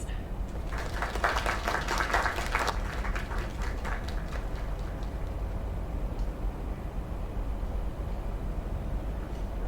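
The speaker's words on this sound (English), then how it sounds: "Another round of applause." A crowd applauds in a room, a burst of scattered clapping that swells briefly and then thins out to a few claps over low background noise.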